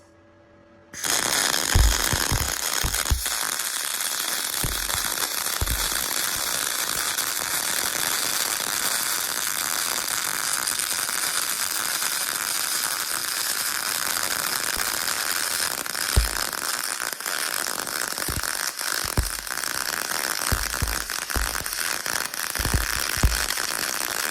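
Aluminum welding with an Arccaptain spool gun, a loud steady crackling buzz that kicks in abruptly and holds for over twenty seconds with occasional pops, close up and without talking.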